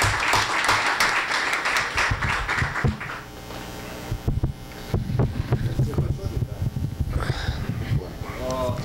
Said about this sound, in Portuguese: Eu gostaria de pedir uma salva de palmas para ele.